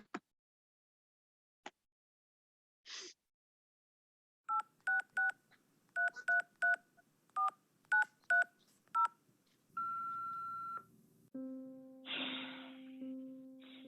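A telephone keypad dials a rapid series of DTMF tones during a recorded phone call, about a dozen short beeps in irregular groups, then a steady line tone and a louder buzzing signal at the end, with no talk.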